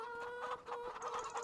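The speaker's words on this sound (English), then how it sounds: "God, they're so noisy, them chickens." Chickens clucking in the farming game Farming Simulator 25, a steady run of overlapping clucks and squawks that carries through the whole stretch at moderate loudness with no talk.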